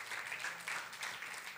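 A church congregation claps together during a midweek worship service, a steady wash of applause lasting the whole short moment at moderate distance, with no distinct voices over it.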